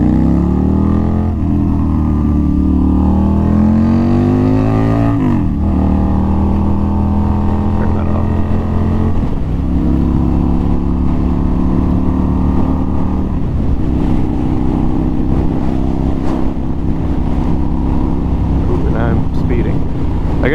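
A street rod motorcycle engine runs smoothly up close, a steady droning rumble with its pitch rising and shifting through several gears, while someone talks over it.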